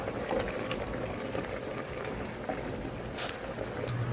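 A spinach and lamb curry simmers in a pot with a steady, close bubbling and hiss as the water cooks off. A few faint clinks break through now and then.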